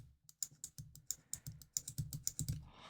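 The game card slot of a white Nintendo DSi LL under repair clicks repeatedly, a rapid run of small sharp plastic clicks, close and quiet.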